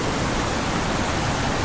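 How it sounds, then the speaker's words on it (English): The Khe Dau waterfall roars in a steady, loud, broadband rush of falling water with no breaks and no voices. "Aggressive fountain. Waterfall, not fountain"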